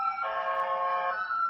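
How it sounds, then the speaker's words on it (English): Emergency vehicle sirens outside in New York City, a steady wailing tone that holds for most of the moment, moderately loud with no talk over it. "you can hear the sirens"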